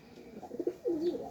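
Pigeons, including a nesting pair with young, cooing close by in a few soft, throaty bursts that end in a longer rolling coo, with no one talking.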